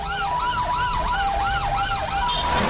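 An ambulance siren wails at a highway accident scene where a large truck has overturned, loud and continuous, with rising and falling sweeps repeating about every half second over steady road noise.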